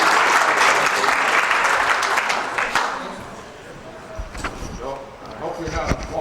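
Loud audience applause fills the first few seconds, then fades away, and voices begin talking over the last scattered claps.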